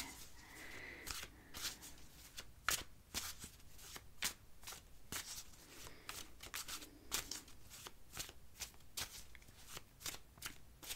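A deck of tarot cards is shuffled by hand, with crisp, rapid riffling snaps and soft card slaps in a steady rhythm, close to the microphone and fairly quiet, with no talking.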